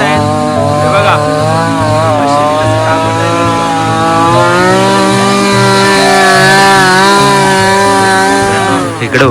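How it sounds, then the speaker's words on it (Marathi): A chainsaw cuts wood logs for a traditional Holi (Shimga) celebration in a Konkan village. The engine drones loud and steady throughout, with a person talking over it. "आता काढतायत मित्रांनो बघू शकता मशीनने आपली कापत आहेत"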